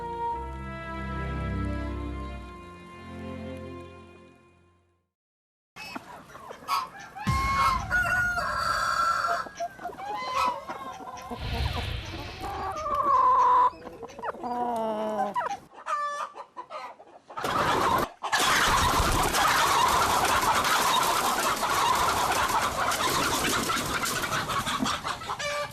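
Chickens cluck in a run of choppy, overlapping calls and a rooster crows, close and fairly loud on a rural property in wintry Korean countryside, with a short silent break partway through and busy farmyard noise.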